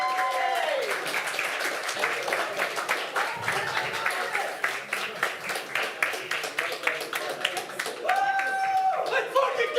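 A LAN event crowd applauds steadily as Team USA is welcomed onto the stage, dense clapping sustained across the whole stretch with a brief lull and a voice over the PA near the end.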